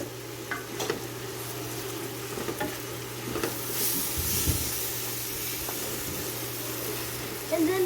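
Onions sizzle and hiss steadily in a pan, the frying noise continuous throughout with occasional stirring scrapes, and a voice speaks briefly over it.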